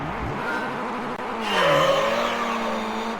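A race car in Gran Turismo 3 on the Tahiti Maze course revs and whines through gear changes, its engine pitch dipping and then climbing again as the car accelerates, close and loud with no talking.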